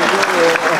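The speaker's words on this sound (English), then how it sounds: "Applaud that." Applause from an audience at a talk, a steady dense wash of clapping filling the short moment at even loudness, with a voice briefly audible over it.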